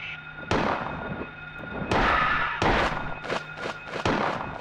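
Gunshots fired randomly in the survival horror video game Silent Hill, a series of loud, sharp bangs: one, then another, then a quicker cluster of three or four near the end, with reverberant tails.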